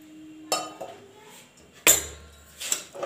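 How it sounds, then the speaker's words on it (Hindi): A metal lid is set onto a pressure cooker holding vegetable pulao, giving a few sharp clinks and clangs of metal on metal, with a louder clatter midway, in a quiet kitchen. "और फिर इसका लगा देंगे ढक्कन"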